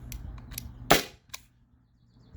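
A Byrna SD launcher fires an aluminum round, one sharp, close pop that stands out against a quiet room, followed by a small clack and faint handling noises.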